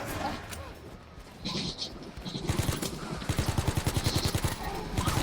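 Explosive guns in a video game fire rapid bursts, starting sporadically and building into a fast, loud, evenly spaced rattle of shots close up, with talking over part of it.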